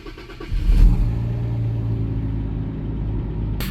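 A classic Jaguar XJS engine cranks and fires up with a rising burst, then settles into a steady, rumbling idle close by.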